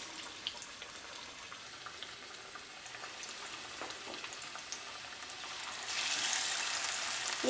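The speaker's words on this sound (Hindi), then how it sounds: "अब मैं फ़िश को एक एक करके ऑयल के अंदर डालती जाऊंगी" Fish pieces frying in hot oil make a steady, faint sizzle with light crackles, growing louder and brighter near the end as more fish goes into the oil; no one speaks.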